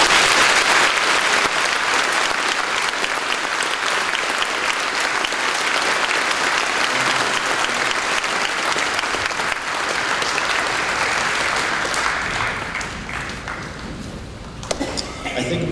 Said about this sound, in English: Could we please honor them with a round of applause?